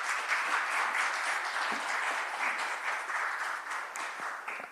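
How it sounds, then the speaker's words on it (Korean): A conference audience gives a steady, even round of applause for a speaker, dense continuous clapping throughout with no voices over it. "축하의 의미로 박수를 2배로 드리겠습니다"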